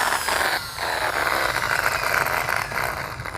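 A steady, loud whirring motor of a power drill running continuously, with a brief dip partway through.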